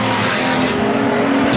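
Race cars in a motor race speed along the back straight, a loud, continuous engine roar that fills the clip with no talk, swelling briefly near the end as the pack passes close.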